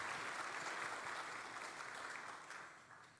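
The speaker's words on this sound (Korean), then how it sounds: "잘 다녀오시도록 우리 박수로 격려하겠습니다" Steady applause from a church congregation, fairly loud and continuous, tapering off slightly toward the end.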